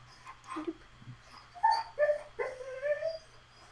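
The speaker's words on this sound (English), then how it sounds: "Oh, that's our dog." A pet dog indoors gives a string of high whimpers and short yips with a couple of soft barks, fairly close and alone, rising and falling over a few seconds.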